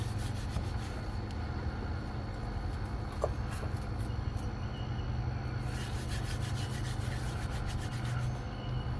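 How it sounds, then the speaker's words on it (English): Dried lettuce seed heads rubbed between bare hands, giving a steady, continuous dry rustling and scraping that stays close and fairly loud throughout, with no talking. "we're going to take it and just start grinding our hands and rubbing"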